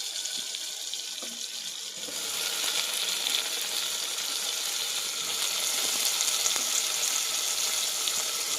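Tomatoes and eggplant pieces fry in a pan with a steady, close hiss of bubbling oil that swells a little after the first couple of seconds and then holds level, with no talking.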